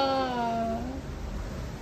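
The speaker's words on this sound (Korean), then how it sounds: "그 키우는 고양이인가 보다" A cat meows once, a clear tonal cry that slides downward and fades within a second, close by, followed by low background noise with a faint voice.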